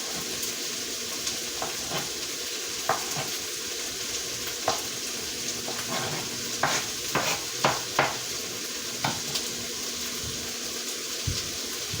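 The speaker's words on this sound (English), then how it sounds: "I'm gonna wait for the onions to cook" Chopped onions sizzling steadily in a hot pan for a Kenyan egg ugali dish, with a continuous frying hiss and scattered light clinks and stirring taps close by.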